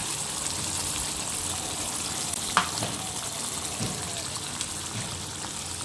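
Chicken pieces fry in oil in a pan just before a prepared spice mix goes in, giving a steady close sizzle with a sharp knock partway through and a few softer bumps; no speech.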